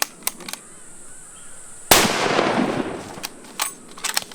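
A single close rifle shot on a hunting range, sharp and loud, followed by a short decaying echo. Faint clicks and handling noises come before and after.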